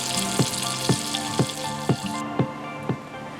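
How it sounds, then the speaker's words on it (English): Onions sauté in a pan of olive oil and butter for risotto, a steady close sizzle broken by regular soft pops about every half second. "I'm gonna brown these onions till they're nice and translucent"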